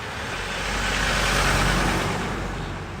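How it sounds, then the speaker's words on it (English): A car passes along a suburban street in Oakleigh East during an outdoor house auction, a steady broadband whoosh that swells toward the middle and fades, fairly close and with no one speaking. "Let the car go past."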